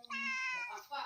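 A pet cat gives one long, clear, close meow after eating, with a second brief meow rising at the end.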